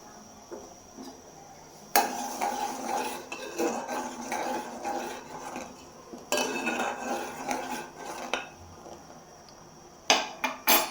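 A spoon clinks and scrapes inside a mug while ginger tea is made at home, in two long busy bursts of close metallic rattling and a short final flurry, with quieter gaps between.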